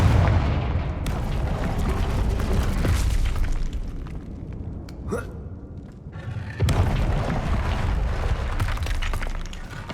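A Confringo blast spell explodes in Hogwarts Legacy amid dense, rumbling game combat: heavy low booms and crackling bursts throughout, with a brief lull midway before another loud blast kicks in.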